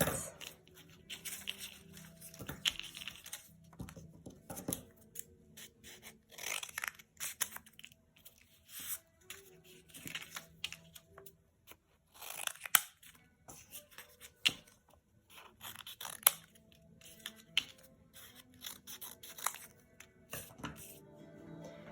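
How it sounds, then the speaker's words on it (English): Scissors snip paper into small pieces at a storytelling workshop in a cafe: quiet, irregular crisp cuts and light paper rustling, close by, with no talk. "so you cut the papers into small pieces like this"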